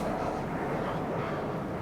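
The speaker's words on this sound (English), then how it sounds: "So many choppers on patrol today." Several patrol helicopters flying overhead, a steady, moderately loud whirring drone that stays constant and broad without clear rotor thumps, with no voices over it.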